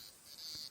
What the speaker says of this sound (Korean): 매미가 맴맴맴 계속 울고 있네요.